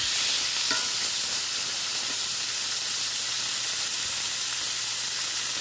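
Beef tenderloin searing in a hot pan, giving a loud, steady broadband sizzle and hiss that holds throughout, close and continuous with a few small clicks and pops, with no talking.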